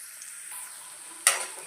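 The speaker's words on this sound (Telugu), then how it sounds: "ఇదిగోండి అల్లం ఫ్రై అయిపోయింది." Ginger frying in hot oil in a home kitchen while making a coriander-tomato chutney, a faint steady sizzle, then a brief louder crackling burst near the end, no talk.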